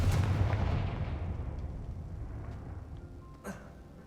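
Loud blast of the Confringo fire spell in Hogwarts Legacy, a heavy booming burst at the start that rumbles and slowly fades, with a small sharp pop near the end.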